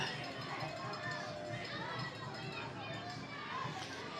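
A crowd gathers along the route of the Kannapolis Christmas parade, a continuous outdoor murmur of mixed chatter with children's voices rising and falling throughout.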